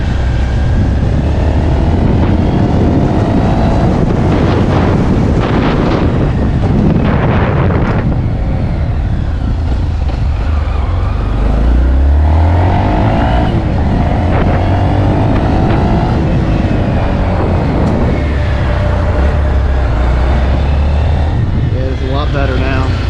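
A 2022 Honda Monkey motorcycle with a five-speed gearbox on a test ride, its engine note loud and steady throughout with wind rush and rising and falling revs as gears change, while a rider talks over it.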